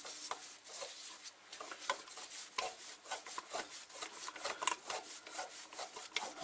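Diaphragm tool and assembly being screwed into a Vacuubrand diaphragm vacuum pump, giving a steady series of close, quiet rasping and rubbing turns with no talking.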